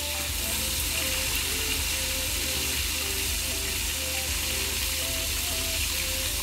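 Chicken wings fry in hot oil for salted egg chicken wings, a steady, dense sizzle that holds close and loud throughout with soft tonal music underneath.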